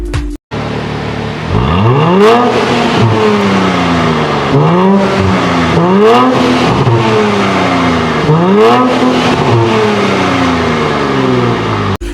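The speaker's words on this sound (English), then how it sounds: "That right there was the new 2024 Nissan Z, man, exhaust note" A 2024 Nissan Z Nismo's twin-turbo 3.0L V6 exhaust revs hard again and again, each burst snarling up in pitch and falling back, loud and close with a raspy idle between.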